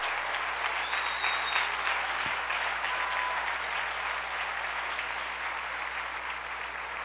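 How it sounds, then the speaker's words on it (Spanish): A church congregation breaks into loud, sustained applause, steady dense clapping filling the room and easing slightly toward the end, with no voices standing out. "Denle un aplauso bien fuerte al Rey."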